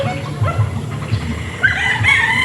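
Gray game fowl roosters on a farm in Norzagaray, Bulacan, giving clucks and a crow nearby, with more crowing fainter in the background.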